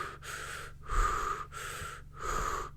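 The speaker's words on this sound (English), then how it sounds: "that's all mouth breathing" Fast, forceful mouth breathing, shown as a demonstration by someone with a blocked nose. Three close, loud breath cycles in a steady rhythm, each airy rush broken by a brief pause, with no talking.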